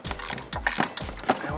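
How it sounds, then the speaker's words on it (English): A 19 mm ratchet wrench tightens a shock bolt on a Jeep Wrangler JK, giving a run of quick, faint clicking pawl ratchet strokes close up in rhythmic bursts. "with a 19 millimeter ratchet wrench, we can start to tighten this guy down"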